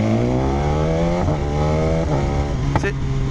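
A customised 2019 BMW S1000 motorcycle idling with a steady engine drone, broken by a few short exhaust pops and crackles near the end, with a voice talking over it.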